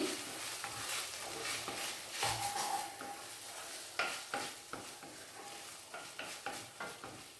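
Egg millet biryani being stirred in a pan, with repeated scraping and clinking of a spoon against the pan over a steady low sizzle, close and fairly loud, no voices.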